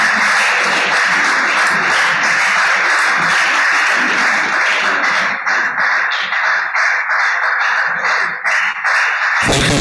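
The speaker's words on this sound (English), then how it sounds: "Keep on clapping, please." A crowd claps at a legislative stakeholders' forum in Nigeria, sustained applause that thins toward the end with scattered individual claps before cutting off abruptly.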